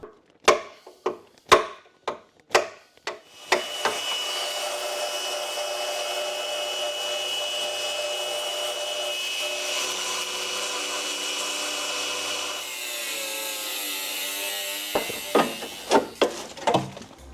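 A power tool cuts rust out of the bodywork of a V10 VW Touareg, a loud steady high-pitched whine lasting about eleven seconds, with sharp knocking taps before and after.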